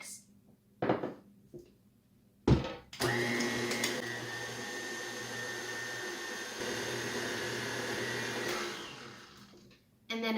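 An electric mixer runs for roughly seven seconds, blending cake-pop batter with milk poured in, a steady close motor whine that fades out, preceded and followed by brief knocks and handling sounds.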